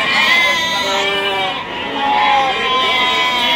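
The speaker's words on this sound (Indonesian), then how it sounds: "kondisi domba garut yang di Pasar Wage Bumayu." Garut sheep bleat repeatedly at a busy livestock market in Bumiayu, wavering calls rising over crowd chatter and background talk.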